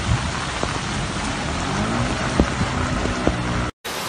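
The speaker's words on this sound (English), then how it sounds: "France was covered with heavy rains, storms and pours throughout the country" Heavy rain pouring down during storms across France, a dense loud continuous roar with a few scattered drips and knocks, broken by a brief silent gap near the end, no talking.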